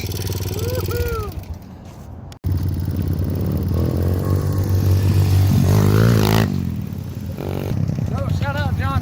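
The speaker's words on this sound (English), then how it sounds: "I noticed this like gang of bikers coming through" A group of bikers riding past on motorcycles, engines revving loudly and clattering close by for several seconds, with people talking and shouting over them.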